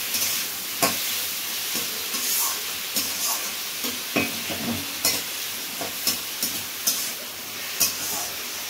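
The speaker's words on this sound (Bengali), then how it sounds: "টমেটো কুচি দিয়ে একটু নুন দিয়ে কষতে হচ্ছে।" Chopped tomatoes with salt fry in a pan, a steady broadband sizzle running throughout while a spatula scrapes and stirs in irregular clicks and knocks every second or so.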